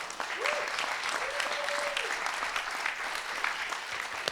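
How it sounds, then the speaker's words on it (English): Audience applause at a Bitcoin presentation, a steady dense wash of many hands clapping that carries on for several seconds, with a faint tone gliding through early on. "Please welcome Dennis with a strong round of applause."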